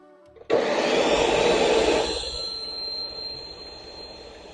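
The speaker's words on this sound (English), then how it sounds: "I use this blender because this is much more powerful" A powerful countertop blender grinds halva ingredients, starting abruptly with a loud whirring roar that holds steady, then drops to a lower, quieter hum as it keeps running.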